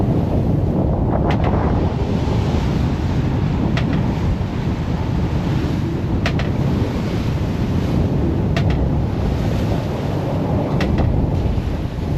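Rough ocean with whitecaps, heard from aboard a boat: a loud, constant rumble of waves and wind buffeting the microphone, with a few brief sharp knocks and no speech.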